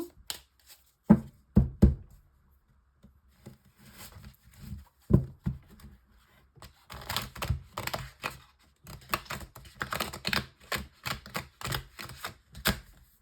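Tarot cards being shuffled by hand before a reading, a run of crisp riffling and tapping bursts that grows denser and busier in the second half, close and alone with no talk.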